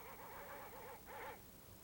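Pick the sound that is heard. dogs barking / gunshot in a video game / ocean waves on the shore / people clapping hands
dogs barking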